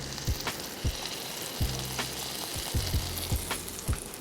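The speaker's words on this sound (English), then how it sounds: "We're gonna toast it on both sides. First on the bottom side so it holds up." Butter sizzles under a sub roll toasting in a pan, a steady close fry broken by repeated soft low thumps and scrapes as the bread is pressed and moved.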